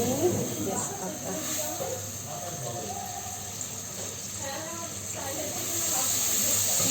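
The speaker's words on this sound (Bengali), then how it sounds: "পেঁয়াজটা একটু ভেজে নিচ্ছি" Sliced onions fry in hot oil with cardamom, cinnamon and bay leaves for a chicken korma, giving a steady, even hiss throughout while a voice talks faintly over it.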